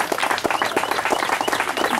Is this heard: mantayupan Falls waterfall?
no